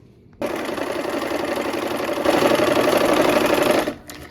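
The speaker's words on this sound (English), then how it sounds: "let's go ahead and sew these" A sewing machine stitches green and blue fabric pieces together in a steady, continuous mechanical whir that runs close and loud for several seconds, growing slightly louder partway through before stopping abruptly.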